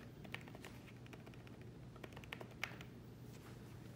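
Soft, faint key taps on a full-size, water-resistant, fabric-coated keyboard cover for an Apple iPad Pro, a few scattered presses with one slightly sharper click near the end, heard alone over a quiet background.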